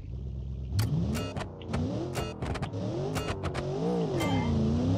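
A car in a racing video game launches hard on nitrous, its engine revving loud and close with rising and falling pitch and sharp bursts throughout.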